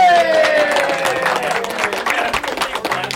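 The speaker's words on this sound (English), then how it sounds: "Please clap." Audience applause at a live speedrun event as a Legend of Zelda run is finished, a dense, steady patter of many clapping hands lasting about three seconds, with a brief tonal game or music sound at the start.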